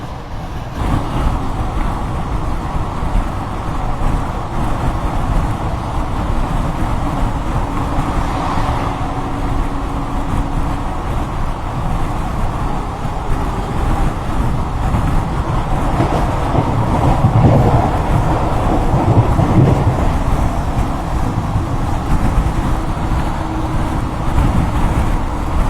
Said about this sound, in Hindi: तो पटना राजधानी हमको ओवरटेक कर रही है, पर बीच में ये गुड्स ट्रेन जो है वो आ गई है हमेशा की तरह